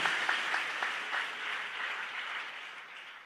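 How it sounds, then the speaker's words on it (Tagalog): Church congregation applauding together, a dense wash of many hands clapping that starts loud and gradually thins and fades over a few seconds, with no voices. "pag kayo pumalakpak, hindi para sa akin, para sa dakilang Diyos na buhay"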